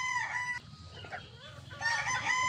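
Pure SBR gamefowl chickens crow and cluck up close, one rooster crowing loudly at the start and again at the end with softer clucking between, against a quiet farm background.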